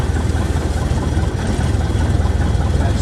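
An aircraft engine runs up to 1,000 RPM, giving a loud, steady low rumble with a rapid pulsing throb throughout.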